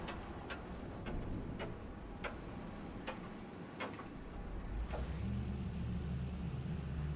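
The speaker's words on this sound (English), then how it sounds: "Ship's making nasty rattly noises." A spaceship in No Man's Sky makes irregular, faint rattling ticks over a low engine rumble, followed by a swelling whoosh and drone near the end.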